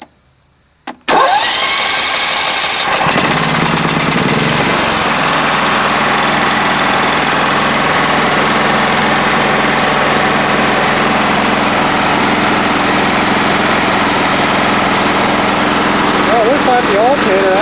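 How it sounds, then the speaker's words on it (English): A John Deere L110 lawn tractor engine cranks briefly after a quiet start, catches and then runs steadily and loudly at close range for the rest of the span, with a faint tone rising near the end. "and now we'll crank it over."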